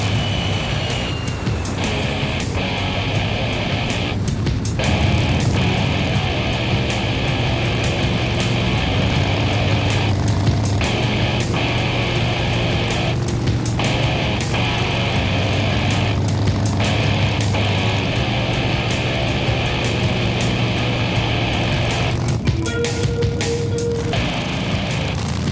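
A custom-built motorcycle rides along the road, its engine a continuous mid-level drone with shifting pitch as it changes speed, steady wind and road noise around it and occasional brief breaks in the sound.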